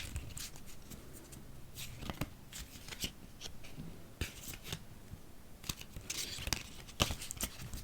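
A tarot card deck is shuffled in a quiet ASMR setting, with soft crisp riffles and sharp snapping bursts of cards at close range, repeating irregularly across the whole stretch.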